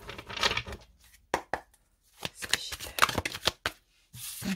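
A deck of oracle cards being shuffled and cut at close range. Quiet riffles and snaps come in irregular bursts, separated by near-silent gaps, and a softer rustle closes the sequence.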